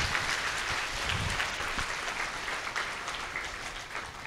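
A crowd at a Brahma Kumaris birthday celebration in Lucknow bursts into loud, sustained applause, a dense wash of clapping that tapers slightly toward the end.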